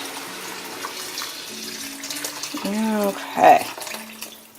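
Tap water running into a pot for a homemade vegetarian curry with rice, a steady close splash and trickle with a brief louder gush near the end, while a person speaks briefly over it.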